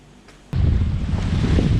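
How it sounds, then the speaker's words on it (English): Strong wind roars across the microphone on a boat at sea off Indonesia, with waves sloshing beneath, a sudden loud gust after a quieter start. "it's blowing, it's windy out here, it's pretty rough"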